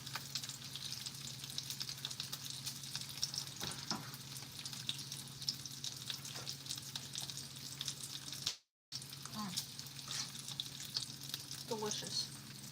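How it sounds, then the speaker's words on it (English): Bacon frying in a pan for a bacon tomato pasta, a steady soft sizzle and crackle with occasional stirring scrapes, quiet and continuous with a brief gap. "Or are we enjoying the sizzling?"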